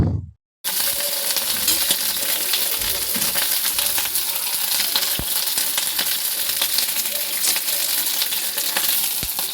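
Egg curry with cauliflower frying in a pan sizzles loudly and continuously after a brief quiet start, with sharp metallic clinks from a utensil scattered through it.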